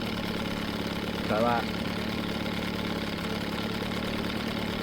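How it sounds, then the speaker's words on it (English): A steady 1995 Johnson 8hp outboard motor idles with a low, even rumble, and a brief spoken phrase sounds partway through. "So idle sounds fine. Idling lovely."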